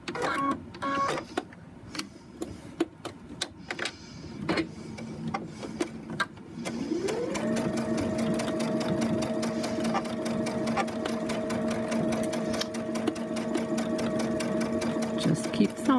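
A sewing machine stitches quilt fabric pieces for a pinwheel braid, starting with a few short bursts and then settling into a long, steady, fast-running whir with a rapid mechanical pulse, while a person talks over the start.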